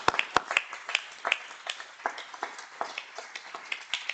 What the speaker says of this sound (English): And so we can give them a big round of applause.